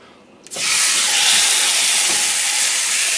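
A steak goes into a hot pan and sets off a sudden loud sizzle, a dense hiss that bursts in sharply after a moment of quiet and keeps going strongly.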